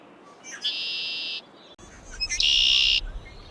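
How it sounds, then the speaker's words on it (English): Two red-winged blackbird calls, each opening with short chips and rising into a buzzy, trilling note, separated by a brief pause; close and clear. "red-winged blackbirds display in full glory."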